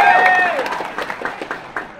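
A crowd at a PPP party national working meeting in Ancol breaks into rhythmic, steady clapping that follows a brief voice, the claps pulsing evenly at moderate volume.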